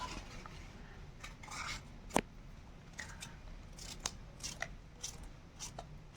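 A knife cuts snake gourd into small pieces: crisp, irregular chopping taps on a cutting board, with one sharper knock, fairly quiet and close, with no talking.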